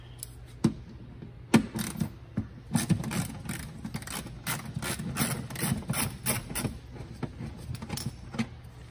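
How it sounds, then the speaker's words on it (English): A ratchet with a Phillips bit backs out a screw on a 2019-2021 Honda Passport rear bumper cover: quick close ratcheting clicks in short bursts, with some scraping and metal rattle. "I'm using a Phillips bit on a ratchet to get in there."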